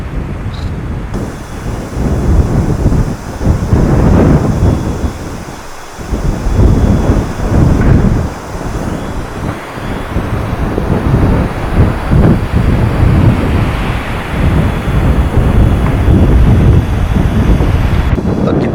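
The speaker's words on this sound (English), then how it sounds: "This is the worst snowstorm I've experienced in the van." Blizzard wind buffets a camper van during a heavy snowstorm, loud gusting roars and rumbling blasts rising and falling in waves against the vehicle, with no talking.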